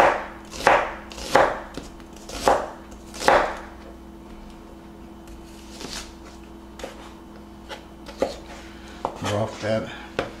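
Knife chopping garlic, ginger, white onion and green onion on a board: a run of loud, evenly spaced thumps in the first seconds, then quieter scattered taps and clinks of utensils.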